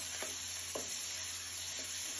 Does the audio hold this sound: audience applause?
no